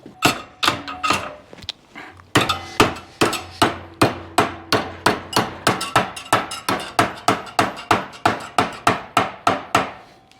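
Hammer blows bending exhaust tubing for custom dual exhaust stacks on a Chevy COE truck: a loud, close series of about two dozen sharp metallic strikes in a steady rhythm, briefly paused early on, with no talk.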